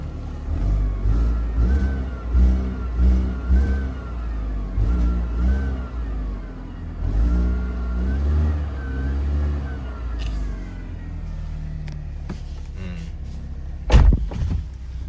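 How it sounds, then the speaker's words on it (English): A car engine with a blowing exhaust revs up and down several times in a steady rhythm, throaty and close, with a rough, uneven idle between the bursts. "It's got a bit of a blow on the exhaust as well."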